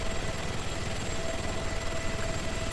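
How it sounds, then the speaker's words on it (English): A helicopter in the video game ArmA 3 flies low and comes in to land, its rotor giving a steady, loud, continuous thrum and whine with no talk over it. "If I'm not able to keep my helicopter steady enough without auto hover, then I shouldn't be trying to land."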